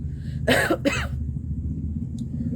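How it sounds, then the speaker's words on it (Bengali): Two sharp coughs close together near the start from a person ill with a fever, then only a low rumbling background with a faint brief click afterward. "বেশি কথা বললেই কাশি হচ্ছে"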